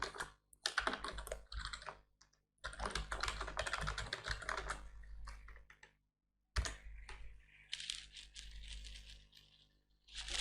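Code typed on a computer keyboard during a C++ programming lesson: rapid, close clattering keystrokes in dense bursts, with a couple of short silent pauses and no talking.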